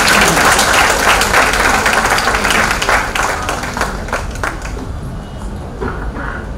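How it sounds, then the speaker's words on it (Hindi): A loud burst of audience applause welcomes a speaker at an International Women's Day programme. The clapping is dense and close at first, then thins and fades toward scattered claps. "जोरदार तालियों से उनका स्वागत करते हैं।"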